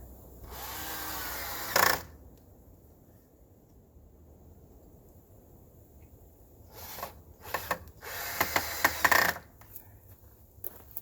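A power drill drives screws into wood during building, with two short whirring bursts a few seconds apart, fairly close against a quiet background.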